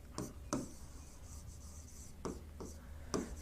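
Pen or chalk writing notes during a physics lesson, a sequence of quiet scratchy strokes and taps in irregular rhythm against a low room hum, with no talk.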